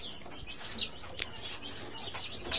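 Young three-week-old chicks chirp with high, thin peeps scattered close by over steady background noise, a few calls standing out sharply, with no talking.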